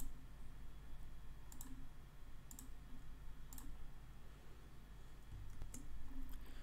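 Faint computer mouse clicks, spaced irregularly, under a steady low hum while a page is being edited, with no speech.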